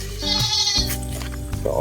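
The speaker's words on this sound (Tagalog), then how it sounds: "At nandito naman po yung tatlo pang kambing." A goat bleats loudly nearby in one wavering, drawn-out cry lasting under two seconds.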